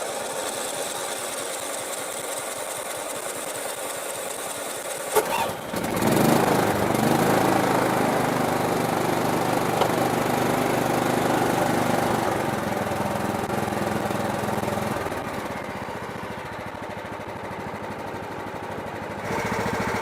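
A lawn mower engine with a freshly rebuilt carburetor cranks for a few seconds, fires up loudly and settles into a steady close-up idle running on alone without talk.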